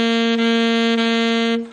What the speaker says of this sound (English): I'll play a long note and then I'll touch it with my tongue.